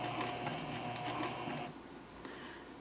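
A sewing machine stitches into the corner of a small Denver mini backpack, its steady mechanical whir running continuously for over a second and a half before stopping, leaving a quiet room with a faint click.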